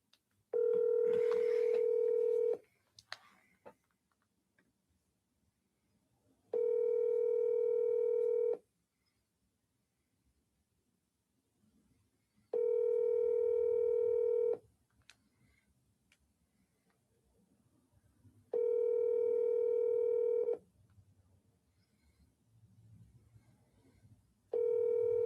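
A phone call placed to an agent rings out as four long, evenly spaced electronic tones, each lasting about two seconds with several seconds of near silence between them.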